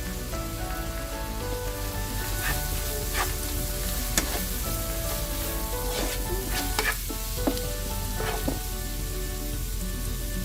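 Chopped tomatoes, mint and cilantro stalks sizzling in ginger garlic paste in a hot pan, a dense continuous crackle like rain with occasional stirring knocks, close and without talk.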